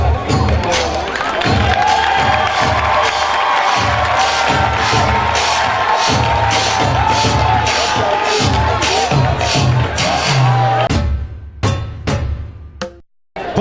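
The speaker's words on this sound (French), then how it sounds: "Merci d'applaudir très fort" A large audience cheers and applauds loudly at the final of the 2019 Mandji Battle Dance, a dense, steady roar of crowd noise with shouts that fades into a few scattered claps near the end.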